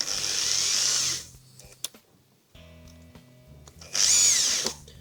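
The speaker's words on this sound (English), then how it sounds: "That noise is just the drill hitting the plastic bit" Two short bursts of a power drill whirring as it hits a plastic part of the electronic ignition on a Harley-Davidson Evo engine, separated by a quiet pause with faint clicking and low hum.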